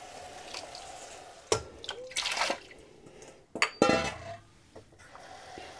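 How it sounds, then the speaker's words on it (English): Water poured into a pot of mung lentils on a stove, splashing and dripping in short bursts alongside clinks of pots and utensils, with no voices. "I'm gonna add the water."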